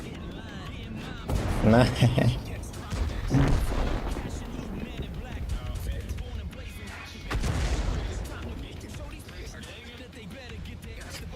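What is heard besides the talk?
artillery fire in a tank video game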